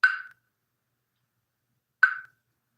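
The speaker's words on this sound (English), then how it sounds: "Have you ever heard a Japanese wooden drum?" Two sharp wooden knocks from a Japanese wooden drum, about two seconds apart, each short with a quick decay, heard alone against silence.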